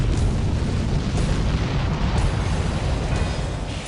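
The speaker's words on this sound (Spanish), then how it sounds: "se producen explosiones en el aire" Deep, continuous rumbling booms roll on without a break, loud and heavy like a run of explosions overhead, from asteroid fragments exploding in the atmosphere.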